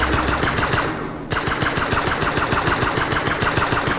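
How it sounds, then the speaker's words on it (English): Guns fire in the space survival game Breathedge as rapid, loud machine-gun-style bursts that repeat in a steady rhythm, with a brief pause near the start. "Then maybe I'll try these guns out somewhere."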